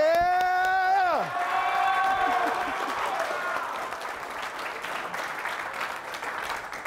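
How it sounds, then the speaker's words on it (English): A football team erupts in a loud shout, followed by a dense burst of clapping and cheering that gradually settles into a steadier roar of applause. "Let's clap it up, man."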